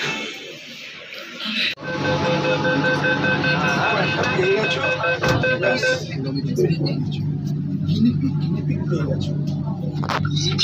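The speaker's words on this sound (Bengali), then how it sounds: "এই দেখো মেট্রো চলে এসছে।" A Kolkata metro train pulls into the station with a rising electric motor whine and a steady low rumble that settles as it slows, while a person speaks nearby over the platform noise.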